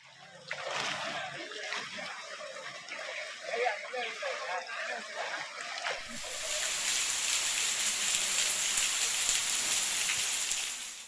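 Continuous heavy rain pours over a flooded village in Tamil Nadu, a dense, steady hiss and splatter that grows louder and fuller partway through, with voices heard over it at first.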